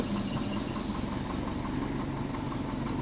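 A big-turbo Subaru engine idles roughly, a steady loud low rumble with an uneven lumpy pulse throughout, close by and without talking.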